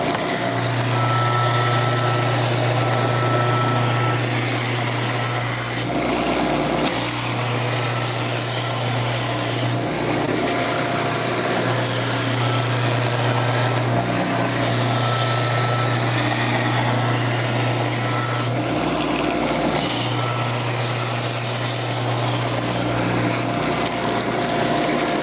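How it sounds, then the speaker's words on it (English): A belt sander runs steadily on handcrafted wooden skateboard decks, a continuous loud whirring drone with brief dips every few seconds as each deck is passed through and repositioned. "we'll bring both of these through on the belt sander."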